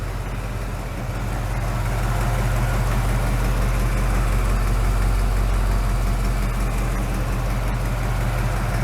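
A 1972 Chevrolet Chevelle Malibu Sport Coupe with a 350 V8 idles close by. The engine holds a steady, loud, deep rumble for the whole stretch, and no one talks over it.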